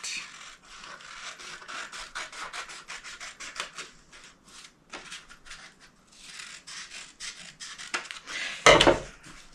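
A plastic fairy garden greenhouse part is trimmed at the top, giving steady close rubbing and scraping strokes in a rough rhythm, ending in a louder scrape.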